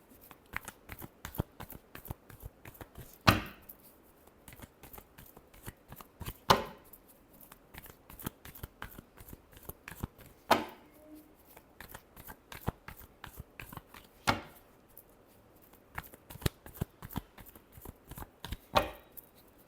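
Tarot cards are shuffled quietly and up close, a long series of soft, regular flicks and taps broken by a few louder riffling snaps every few seconds, with no voice.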